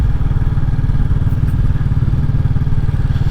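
A Royal Enfield Classic 350 motorcycle rides along with a loud, steady low thumping engine pulse and rushing wind, heard close up throughout with no speech.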